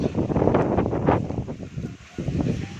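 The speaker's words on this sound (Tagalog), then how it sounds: "Ang sarap, ang lakas ng hangin." Strong gusts of wind on a mountain buffet the microphone, a loud, continuous roaring rumble with brief dips.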